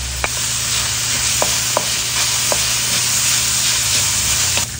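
Garlic and onion sauté in three tablespoons of oil in a pan, a steady broadband sizzle with a few sharp stirring clicks and scrapes spread through, close and continuous with no talking.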